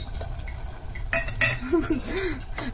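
A spoon stirs black-eyed pea usal with fresh coriander in a pan, giving a few soft scraping and clinking strokes against the metal, close and fairly quiet, with no talk.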